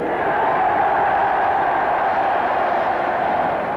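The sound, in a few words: rugby crowd cheering at a penalty kick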